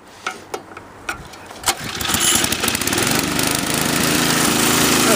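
A Toro 521 snowblower engine, choked and fitted with a demo test carburetor, coughs through a few sharp pulls, then catches and settles into a loud, steady running roar close by.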